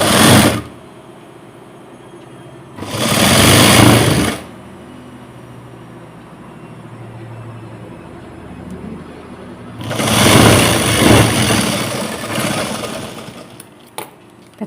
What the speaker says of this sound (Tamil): இப்போ இந்த 3 பீஸையும் தைக்க ஆரம்பிக்கணும்